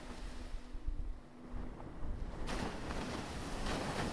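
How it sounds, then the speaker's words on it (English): Ocean waves crash near a seaside boardwalk pier, a steady broadband surf wash that swells louder partway through, with wind rumble over the microphone and no voices. "the waves continue to crash down"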